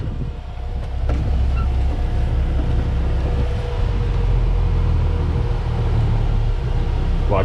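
A grain auger runs continuously while soybeans are unloaded from a grain bin, a steady loud mechanical rumble and whine that holds from start to finish with no pauses.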